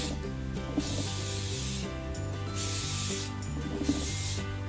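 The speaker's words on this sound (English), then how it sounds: "secure it in place with a little bit more hairspray" Hairspray is sprayed onto a braid in several close, loud hissing bursts, separated by short pauses, over a low steady hum.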